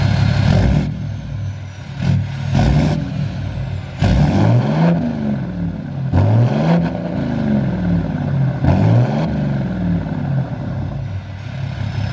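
A 6.7 Cummins diesel truck fitted with an MVP 5-inch turbo-back straight pipe exhaust, deleted and tuned, idles with a loud, deep rumble and revs up in several sweeping throttle blips, heard close and continuous.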